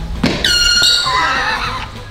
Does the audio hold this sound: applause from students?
no